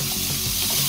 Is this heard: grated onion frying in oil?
yes